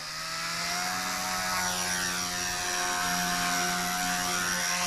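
A K110S RC helicopter flies with a steady high whine of its small motor and rotor, close and continuous, with no talk.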